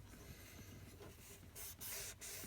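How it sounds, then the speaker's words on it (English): Cleaner is sprayed onto the charging handle of a KWA gas blowback airsoft rifle, with two short, soft hissing bursts near the end after quiet rubbing and handling. "I just spray a little bit on there and go ahead and wipe it"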